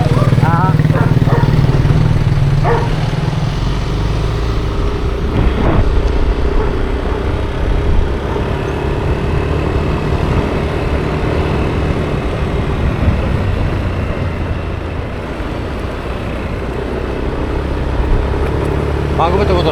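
A Yamaha Aerox scooter riding along a bumpy road, a continuous buzzing engine drone with rushing wind, rising and falling slightly, while people talk intermittently over it.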